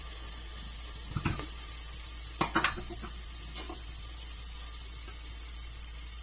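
Onions sizzle in hot oil inside a pressure cooker, a steady crackling hiss broken by a few sharp clinks and scrapes of stirring. Nobody talks.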